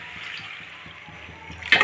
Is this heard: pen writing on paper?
no